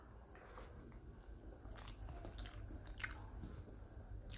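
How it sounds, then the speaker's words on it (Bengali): Close, wet chewing and biting of hot rice hand-mixed with mashed potato and mashed egg dressed in mustard oil, soft squishy mouth sounds repeating irregularly with a few sharper crunchy bites, no talking. "এই যে দেখছেন গরম গরম ভাত, আলু ভর্তা ডিম ভর্তা দিয়ে এখন মাখতেছি। এখন খাবো।"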